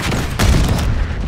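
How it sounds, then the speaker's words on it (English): A flashbang grenade bursts in Call of Duty Black Ops 6 Hardpoint, a loud close boom at about half a second over a dense layer of gunfire and battle noise. "Flashbang out."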